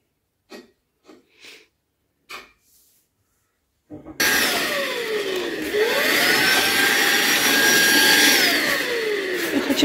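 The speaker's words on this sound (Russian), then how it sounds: "Я такая здесь пылесошу." A household vacuum cleaner switches on partway through and runs loud and close, a hissing roar with a whine that rises in pitch and then falls back. A few soft breaths and a sniff come before it starts.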